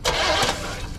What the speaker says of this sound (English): Go ahead and just blip the throttle